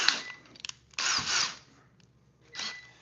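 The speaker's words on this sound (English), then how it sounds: "We're going to put that dude in the drill." A power drill fitted with a 5/8 inch paddle bit, heard close up in three short whirring bursts separated by pauses, the middle burst lasting longest.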